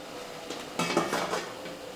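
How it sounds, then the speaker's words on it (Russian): Metal steamer tier set into a manti cooker pot over boiling water, a short cluster of close metallic clanks and scrapes lasting about a second, then quiet. "Устанавливаем каскан."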